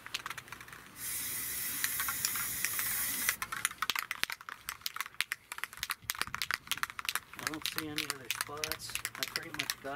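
A spray paint can hisses in a steady burst while a barrel stove gets its second coat, then gives way to someone talking close over sharp intermittent sprays and handling clatter.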